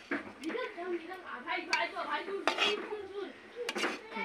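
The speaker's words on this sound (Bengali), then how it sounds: "একটু লাড়িয়ে দেখিয়ে দিই তোমাদেরকে" A spoon stirring cooked fish-head curry with sweet pumpkin in a metal pot, a few clinks and scrapes against the pot heard under someone talking.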